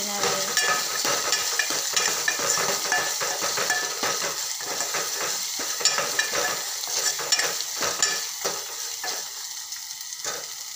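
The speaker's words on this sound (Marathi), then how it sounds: "तो घालणार आहे। टोमॅटोला छान मऊ होईपर्यंत शिजू देणार आहे।" Chopped tomato cooks in oil in a pan for a dhaba-style spinach and lentil dal, a dense, bright sizzle running throughout with steady stirring scrapes, close and unvoiced.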